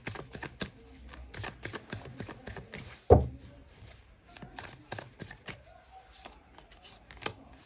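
Tarot cards being shuffled and drawn, giving a quick run of crisp riffling taps and flicks with one sharper slap midway, followed by softer card handling; close and fairly quiet, with no talking.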